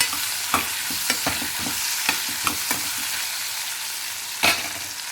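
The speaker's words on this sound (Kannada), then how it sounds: "ಉದ್ದಗೆ ಹೆಚ್ಕೊಂಡಿರೋಂಥ ಉಳ್ಳಾಗಡ್ಡೆ ಹಾಕಿ ಸ್ವಲ್ಪ ಕಂದು ಬಣ್ಣ ಬರೋ ತನಕ ಹುರ್ಕೋಬೇಕು" Sliced onions fry in oil with cashews, green chilies and cumin for jeera rice, a loud, even sizzle punctuated by repeated spatula clacks and scrapes against the pan.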